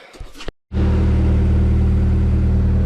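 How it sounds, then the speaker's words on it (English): A brief clatter, a moment of silence, then a car engine with an open header exhaust roars to life and settles into a loud, steady, deep idle. "I don't have the exhaust connected yet, so it's open header, so it's loud"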